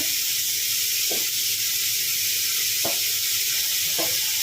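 Onion, green chilli, garlic and ginger fry in hot oil in a pan for a tapioca cutlet recipe, a loud, steady close sizzle with a few soft stirring taps.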